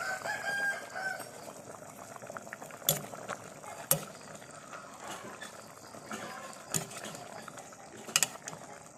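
A northern Thai sour bamboo shoot curry with pork bones simmers in a pot while it is stirred, with soft bubbling and scattered sharp clinks and scrapes of a utensil against the pot, fairly quiet and close.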